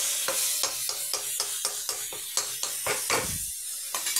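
Tomatoes sautéing in oil in a pan for a pumpkin and soya gravy, with a rhythmic series of about a dozen spatula strokes over a soft sizzle, close and fairly loud.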